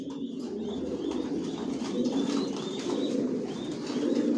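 Racing pigeons coo steadily in a breeding loft, their soft overlapping calls forming a continuous near murmur, with faint higher chirps and occasional wing rustles above.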